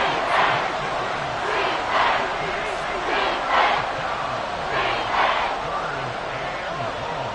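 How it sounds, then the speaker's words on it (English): A stadium crowd in an American football video game roars loudly and steadily, with swells of cheering that rise and fall throughout. "This crowd turning up the decibel level"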